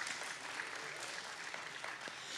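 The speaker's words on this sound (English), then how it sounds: "Can we give our seniors a round of applause?" A recital audience at a strings senior recital claps steadily in a soft, even patter of applause, moderately distant and with no talk over it.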